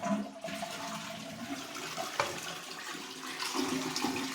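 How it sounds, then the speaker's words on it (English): A toilet in a house bathroom in Mexico flushes, a close rushing swirl of water that surges, gurgles and keeps running steadily for several seconds, with no speech over it. "The bathroom, you can flush it."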